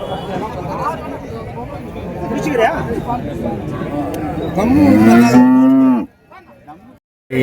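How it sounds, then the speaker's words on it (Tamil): Water buffalo bellow at a busy cattle market in Uthangarai, Krishnagiri district, with one long, loud, close moo rising out of crowd chatter and people talking. "எருமாடு எடுத்து வந்திருக்காங்க பாருங்க"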